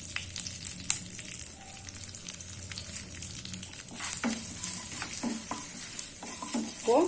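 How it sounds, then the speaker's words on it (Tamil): Mustard seeds, dried red chili and curry leaves sizzle and crackle steadily in hot oil, with scattered pops and the scrape of a spoon stirring the pan, close and fairly quiet, no voices. "இப்போ கடுகு பொரிஞ்சிருச்சு."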